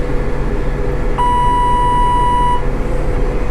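Steady electronic beep from an Amazone fertilizer spreader's hydraulic controls on a farm, one continuous tone lasting over a second and then stopping, loud and close above a constant tractor engine hum.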